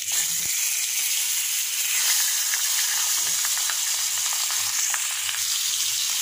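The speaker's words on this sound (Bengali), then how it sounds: "এবার ফ্রাই করে নেব বাদামি বাদামি করে" Fish rubbed with turmeric and salt fries in oil in a kadai, giving a dense, continuous hiss with faint crackles running steadily near the listener, no talk.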